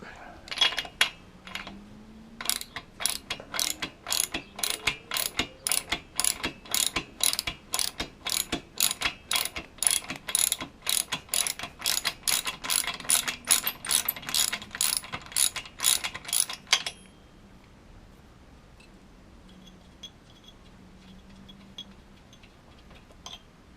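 Socket ratchet clicking in rapid bursts of pawl ticks while undoing bolts on a 1975 Kawasaki S1C triple motorcycle, close and loud for about seventeen seconds, then quieter faint handling noise.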